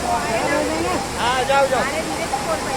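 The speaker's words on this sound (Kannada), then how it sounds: "ಪಕ್ಕದಲ್ಲಿ ಒಂದು ಜಲಪಾತನೂ ಇದೆ ಪಕ್ಕದಲ್ಲಿ ಒಂದು ಜಲಪಾತ ನೋಡಿ" A waterfall beside the rugged Kedarnath trekking path roars as a constant broadband rush. Someone speaks over it throughout, and the water stays steady and prominent beneath his voice.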